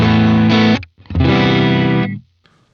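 Electric guitar through a Boss Space Echo RE-202 with gritty saturation, two loud distorted chords ringing out, separated by a brief gap, then cutting off abruptly into near silence.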